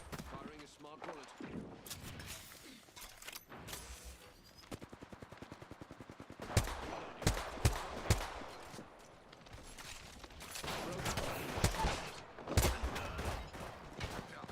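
Video game gunfire with smart bullets: a rapid run of evenly spaced shots, then several louder separate bangs and scattered bursts, with a voice talking over parts of it.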